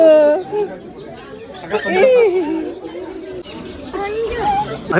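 Pigeons coo near a family outing, a few soft warbling calls spread across the stretch, mixed with voices and chatter.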